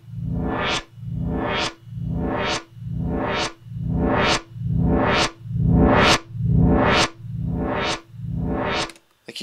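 A reverb-built synth tone repeats in ten even swelling hits, each a rich, bright burst that blooms and decays before the next, loud and alone.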